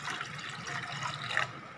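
A tumbler of about 150–200 ml of water is poured out in one steady splashing stream for over a second, then stops abruptly.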